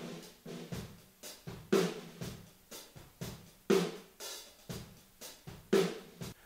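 A drum kit captured by a pair of reissue U47 room mics in a Blumlein arrangement on a balcony facing the kit: a steady groove of kick and snare hits with cymbal wash, roomy and moderately distant.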